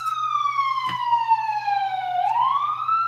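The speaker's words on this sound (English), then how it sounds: "There's always ambulances and police sirens all the time." Police and ambulance sirens wail in New York with a clear descending tone that then sweeps back upward, loud and continuous, with a low steady hum underneath.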